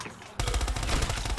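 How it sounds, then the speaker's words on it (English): Rapid, loud bursts of Pack-a-Punched automatic gunfire in Black Ops 3 Zombies, sudden after a short quiet lead-in and then a continuous fast rattle of shots. "Oh, I'm shooting green bullets now. Look at them bullets that I'm shooting."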